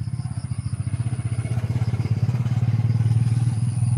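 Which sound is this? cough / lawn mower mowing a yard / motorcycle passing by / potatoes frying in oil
motorcycle passing by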